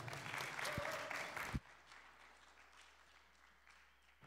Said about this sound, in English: We'll do a really long applause so that he feels welcome